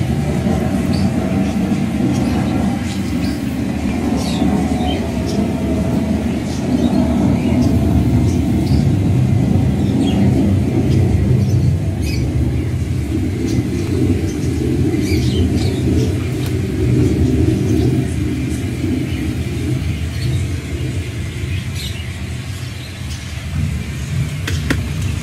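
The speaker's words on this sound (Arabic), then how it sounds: "ها شفتوا الامطار صناعية وصوت الرعد" Artificial thunder and rain sound effects played in an outdoor songbird garden, a steady loud low rumble with continuous hiss and scattered bird chirps throughout.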